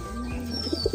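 Bagha pigeons, a breed kept for breeding lines, give a brief throaty coo repeated two or three times at close range against a low hum of surrounding noise.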